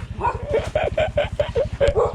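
A dog barks at a house as visitors arrive, giving a quick run of close, loud, repeated barks and yips in a steady rhythm.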